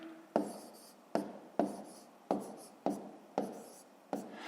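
A pen writing long multiplication on paper, close and distinct, with a series of about seven sharp strokes in a steady rhythm, each starting with a tap and trailing off in a scratchy rub.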